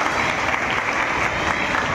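A crowd at a road inauguration claps loudly and continuously to welcome Ajit Pawar, a dense, steady roar of applause throughout.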